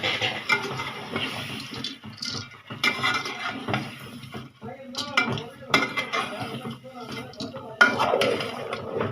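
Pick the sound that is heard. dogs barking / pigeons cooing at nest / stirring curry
stirring curry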